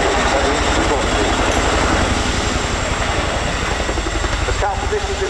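An RAF Chinook HC6 twin-rotor helicopter flies at the Royal International Air Tattoo, carrying an underslung load, its rotors beating in a loud, rapid, continuous thud over a steady engine whine, close by throughout, with a commentator talking over it.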